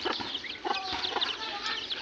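A flock of free-range chickens clucking busily while being fed, several birds close by making quick overlapping clucks and chirps in an irregular stream, with no speech over them.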